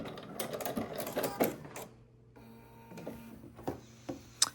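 A sewing machine runs a short seam at a half-centimetre seam allowance, a rapid mechanical chatter in quick bursts with pauses and clicks, close and quiet.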